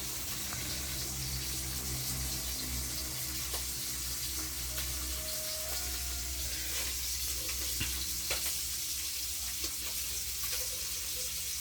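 Fish fries in a pan with a faint, continuous sizzle and soft bubbling crackle that holds steady throughout, with no talking.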